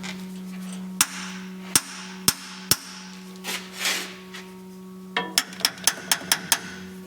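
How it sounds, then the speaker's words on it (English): Metal hammer strikes ring out on a stalled farm machine that ran out of fuel: four spaced blows, a brief scrape, then a rapid burst of six sharp hits over a steady engine-like hum. "We may need to do some hammering on stuff"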